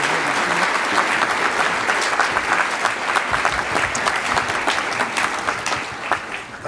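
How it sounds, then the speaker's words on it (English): Loud, sustained applause from an awards ceremony audience at the American Veterans Center Honors, dense clapping with distinct individual claps standing out and tapering slightly toward the end. "Please give him a round of applause."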